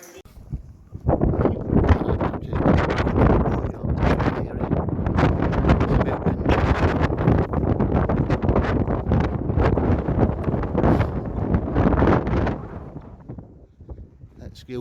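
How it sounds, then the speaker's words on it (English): Strong wind buffets the microphone outdoors at Carlisle Castle, making a continuous rumbling roar that surges and fades. Speech is present under the gusts. "Excuse the wind, I do apologise, but it is windy."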